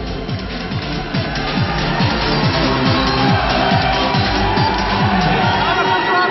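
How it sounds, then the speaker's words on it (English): Crowd of FEU supporters at a collegiate volleyball finals match against UST cheering and chanting with rhythmic drum-like thumps, steady and loud throughout, with a commentator's voice over it. "you can hear the cheering of the FEU crowd"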